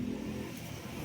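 A Honda RS150 motorcycle engine idles close by with a steady rough hum and faint rapid ticking from a faulty timing chain tensioner, running alone without voices.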